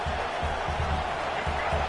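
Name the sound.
football stadium crowd noise before a red zone defensive stand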